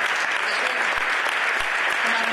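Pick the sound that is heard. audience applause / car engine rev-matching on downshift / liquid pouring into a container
audience applause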